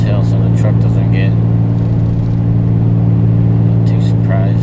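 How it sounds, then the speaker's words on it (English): A Ram 3500 pickup towing about 29,000 lb gross builds speed into an uphill grade, its deep, steady engine drone running continuously and close while someone talks over it. "I'm gonna build a little bit more speed coming into this hill"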